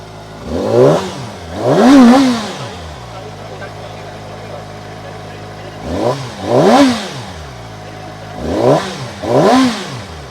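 Kove motorcycle with an underbelly exhaust revved repeatedly at a launch event, three pairs of rising and falling engine blips separated by a steady idle, with people talking nearby.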